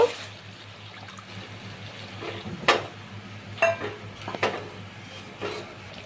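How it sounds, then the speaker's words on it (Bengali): Coconut milk going into a yogurt-spice masala in a pan for prawn malai curry, a soft liquid wash broken by a few sharp utensil clinks against the pan. "এবারে আমি নারকলের দুধটা দিয়ে দেব"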